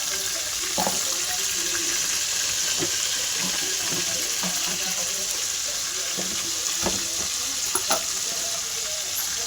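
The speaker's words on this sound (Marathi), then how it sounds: "आता हे मस्त तळून घ्यायचं तेलामध्ये" Eggplant fries in oil with turmeric and salt, giving a steady, close sizzle throughout, with occasional sharper pops and small clicks rising above it.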